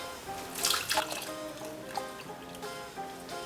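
Soaked wool dreadlock extensions are wrung out by hand, giving close, soft water squelches and drips against steady background music.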